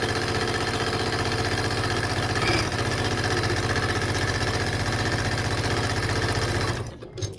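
A sewing machine runs steadily while stitching binding onto a vintage quilt table runner, a loud, even mechanical whir that stops near the end.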